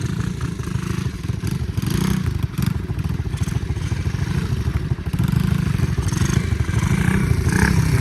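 A pit bike's small engine revving hard and continuously while riding circle wheelies, loud and close with throttle surges, some clatter and scraping.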